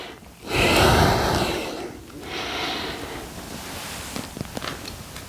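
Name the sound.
heavy breathing during golf exercise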